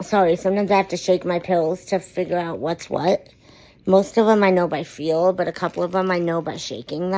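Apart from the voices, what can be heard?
No distinct noise like a dog, phone or traffic.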